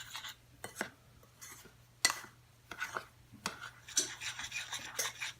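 Dry waffle batter ingredients, flour and brown sugar, stirred in a bowl, giving a series of scraping, clinking strokes of a utensil against the bowl in an uneven rhythm, close and moderately quiet, without talking.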